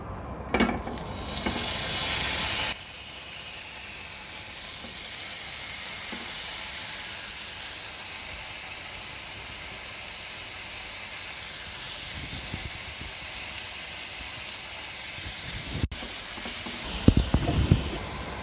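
Steady hissing sizzle of chicken tikka skewers frying in an oiled pan over low heat, continuous and close, with a louder burst at the start and a few clatters near the end.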